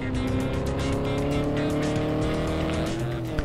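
Racing car in the Ford Racing 2 video game spinning out on an offroad section, engine droning loudly with tires squealing and skidding continuously throughout, no talk over it.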